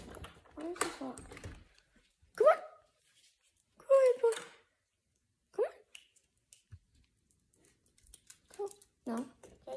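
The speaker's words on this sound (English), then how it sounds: "now all we have to do is put the dogs out for a little bit" Household dogs bark in a few short, sharp bursts among scattered voices, with quiet gaps between the barks and the talking.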